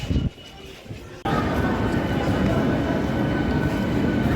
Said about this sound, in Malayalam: ഇത് ശ്രീനഗറിലേക്കുള്ള ട്രെയിനാണ് ബനിഹാളിൽ നിന്ന്.